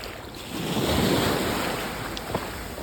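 Ocean waves wash onto a beach in Pattaya, Thailand, a steady broad roar of surf that swells and eases, with wind buffeting the microphone and no voices.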